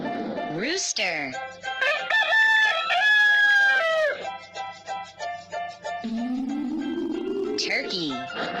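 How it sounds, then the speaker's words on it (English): A rooster crows close and loud in a long, rising-and-falling cock-a-doodle-doo, followed by further crowing and clucking notes, clear and dominant throughout. "Rooster."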